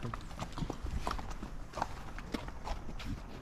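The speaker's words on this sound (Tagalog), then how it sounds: "Natatakot pala ang kabayo sa camera" Horse hooves clip-clop in a quick, steady rhythm close by, with faint voices and outdoor noise in the background.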